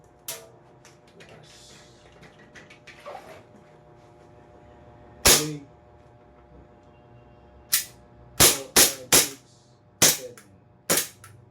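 Seven sharp shots from a repaired Glock 17 airsoft pistol crack in close range, first one alone, then a quick irregular burst of several, over a quiet background.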